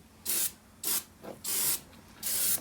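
Aerosol spray coating a Porsche 928 door armrest: four separate hissing bursts of varying length, the first three short, the last two longer, with quiet pauses between, close and fairly soft.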